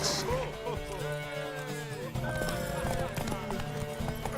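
Horse hooves clip-clopping in The Witcher 3 video game, a steady galloping patter of hoofbeats under game music and a voice talking, with a brief whinny near the start.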